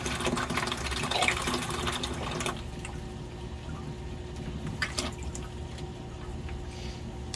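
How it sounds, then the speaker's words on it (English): Water pulled out of a home aquarium through a siphon hose, a continuous close gurgling, trickling flow that is louder at first and then settles into a softer steady run. "once you get it going and you got your siphon going, you're pulling water out"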